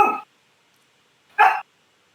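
A dog barks twice in the background, two short separated bursts over an otherwise quiet stretch, with no talking.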